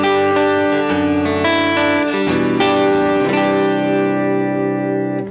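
Electric guitar played through a Strymon Iridium amp modeler with a Fender Deluxe Reverb cabinet impulse, a steady run of sustained chords and notes changing every second or so, loud and close with reverb and no talk.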